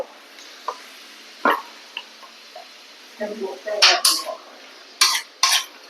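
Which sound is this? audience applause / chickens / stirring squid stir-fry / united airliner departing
stirring squid stir-fry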